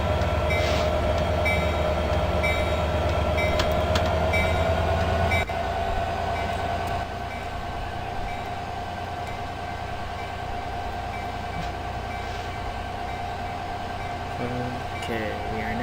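Amtrak Surfliner passenger train in the Open Rails train simulator game, departing Oceanside for Solana Beach and San Diego: a steady loud engine drone and rolling rail rumble with a rising tone, faint clinks, under moderate background.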